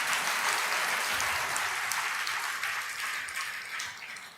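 A congregation at a Sunday live service claps their hands together, a full, sustained burst of applause that stays strong and gradually tapers off near the end.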